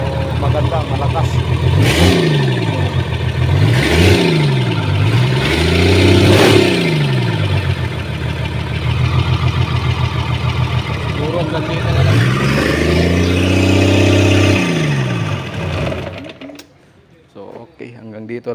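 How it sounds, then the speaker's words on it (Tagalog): Up close, a newly overhauled generator engine with fresh piston rings and liners is revved in three quick surges, settles into idle, revs once more in a long swell, then cuts off abruptly. "So maganda, malakas."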